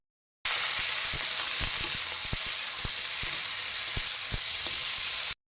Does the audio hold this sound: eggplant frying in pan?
yes